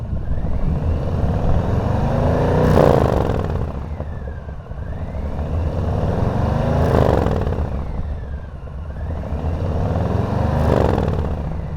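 A Harley motorcycle fitted with a Vance & Hines Eliminator slip-on exhaust revs up and down three times in a rising and falling cycle. The deep, throaty rumble is loud and close, with no talking over it.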